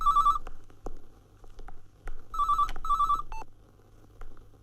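A telephone rings with a bell-like trill in two clear bursts separated by a pause, up close, with faint clicks and knocks in between and no speech.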